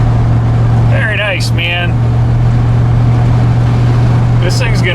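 An LS-swapped Chevy S10 street truck engine holds a loud, steady low drone throughout, with someone speaking briefly over it.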